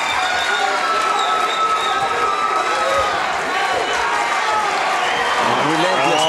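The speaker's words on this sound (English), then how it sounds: "And the crowd goes wild" At an MMA cage fight, a large crowd cheers and roars in a continuous loud swell, with a commentator talking over the noise throughout.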